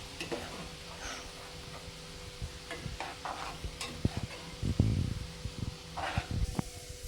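Julienned potatoes fry in oil over a moderate gas flame for jhuri aloo bhaja, a soft close sizzle broken by scattered scrapes and knocks of the spatula as they are stirred.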